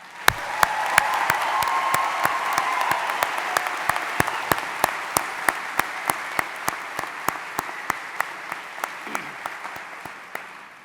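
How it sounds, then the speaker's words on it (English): Commencement audience at Baldwin Wallace University's 2023 fall ceremony applauding graduates: a sustained roar of clapping from a large crowd in a big venue, with a few sharp close claps punctuating it steadily and slowly fading. "A round of applause for our graduates."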